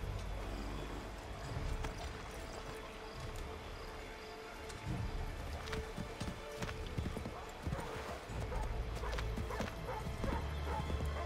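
Hooves clip-clop rhythmically as a horse gallops through the Assassin's Creed 3 game world, with dogs barking and crickets in the ambient background. The hoofbeats run steadily and fairly close.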